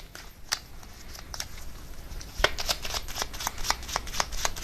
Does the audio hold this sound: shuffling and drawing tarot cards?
yes